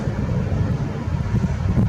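Steady low wind buffets the microphone of a Nikon P900 camera outdoors, a constant rough rumble with no speech.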